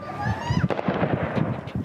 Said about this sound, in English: They barely flinch as the gunshots ring out around them.